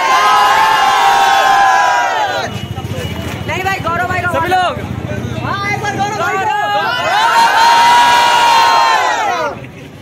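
A large crowd of fans gathered at a YouTuber meetup in India cheers and chatters loudly and steadily throughout, with a voice close by speaking over the din in the middle stretch.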